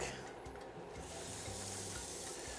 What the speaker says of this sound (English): Next goes in my garlic